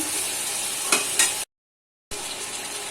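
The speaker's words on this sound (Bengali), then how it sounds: "এখন মশলাগুলো ভালোভাবে একসাথে করে কষিয়ে নেব" Spices for egg and masoor dal bhuna khichuri frying together in a pan, with a steady sizzle broken by two brief scraping stirs and a short pause of silence partway through.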